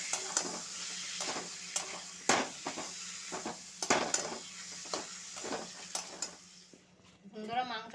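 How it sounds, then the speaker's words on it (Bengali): Chicken meat sautéing in spice masala for a chicken and jackfruit curry, heard as a soft sizzle with repeated scraping and stirring clatter from a utensil against the pot. A voice speaks briefly near the end. "এরপর আমি মাংসগুলো দিয়ে দেবো। দিয়ে মাংসটা ভালোভাবে কষে নেব।"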